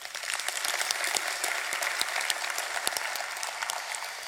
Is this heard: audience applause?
yes